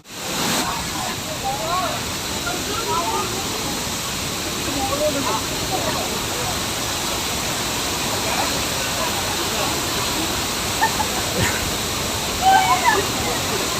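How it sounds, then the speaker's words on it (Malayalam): Waterfall roaring as a dense, unbroken wash of rushing water, loud and near throughout, with a few faint splashes rising over the steady torrent. "ഈ വെള്ളച്ചാട്ടത്തിൻ്റെ നടുക്കുന്ന എത്ര സംസാരിച്ചാൽ എത്ര കേൾക്കാൻ പറ്റുമെന്ന് അറിയില്ല"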